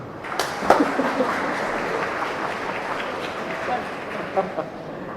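A congregation claps during a church homily in a broad, sustained wash of applause lasting several seconds, with a few louder individual claps standing out.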